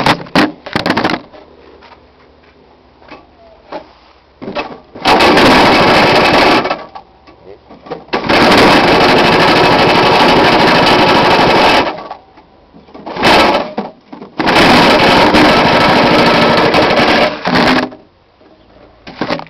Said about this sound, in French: je vais vous faire écouter le bruit du moteur